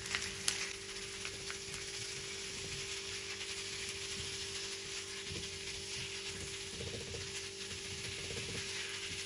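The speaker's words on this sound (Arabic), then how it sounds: "كمان بقليهن مع البصل" Minced meat frying with onions in a pan, a soft, steady sizzle and hiss that stays faint and even throughout, with a few light stirring touches and no talking.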